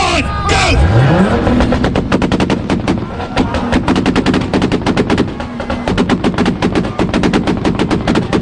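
Toyota Supra at an Import Face Off 2-step launch competition, firing rapid, loud exhaust pops and bangs in a dense machine-gun-like burst over a revving engine, close up and continuous throughout.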